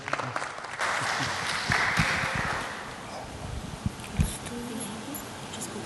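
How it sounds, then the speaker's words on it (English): Audience applause at a conference session as the first speaker is welcomed: a steady, moderately distant crowd clapping that swells briefly, then thins and tapers off, with a few louder individual claps near the end. "A round of applause for our first speaker."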